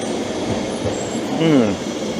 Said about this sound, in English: oh, there's a tram there going past